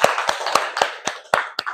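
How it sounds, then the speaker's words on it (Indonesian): A handful of claps in a classroom for a student group, six or seven separate sharp hand claps in a loose uneven rhythm, close by and fairly loud, with no voices. "Beri tepuk tangan untuk kelompok 4."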